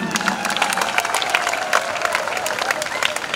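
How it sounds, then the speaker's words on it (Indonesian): An audience applauds loudly and steadily at a regency anniversary speech in Biak, many hands clapping in a dense, continuous burst with some crowd murmur underneath. "Tepuk tangan dulu."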